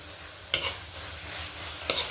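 Carrot halwa with sugar is stirred in a pan, with two quick scraping strokes of a spoon over a soft background sizzle, close and moderately quiet.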